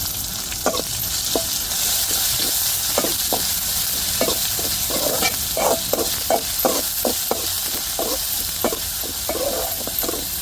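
Tomato, ginger and garlic fry loudly in a pan under a constant sizzle, while a spoon scrapes and stirs in a quick, repeated rhythm throughout.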